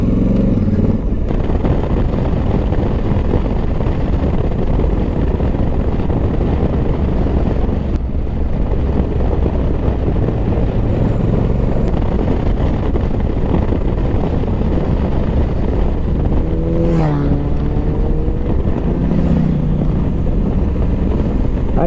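A 2023 Honda Africa Twin Adventure Sports with DCT gearbox ridden at low speed. A loud, steady roar of wind buffeting the microphone covers a low engine drone throughout, with brief tonal whines near the end.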